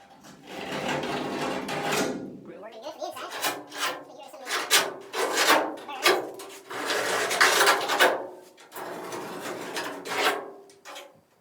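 A deburring tool scrapes along the cut metal edge of a Chevy C20 truck bed being shortened from long bed to short bed, giving repeated close rasping strokes in uneven bursts, fairly loud, with a brief quieter pause early on.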